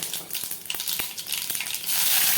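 Mustard seeds and cumin crackling in hot oil as a tempering in a home kitchen, a loud close sizzle with rapid sharp pops scattered throughout, swelling into a denser hiss near the end.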